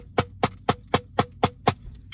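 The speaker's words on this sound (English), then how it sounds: "This Zymox pad sounds like this" Steady, evenly spaced taps of a drumstick on a Zymox practice pad, seven crisp strikes at a moderate tempo with no talking.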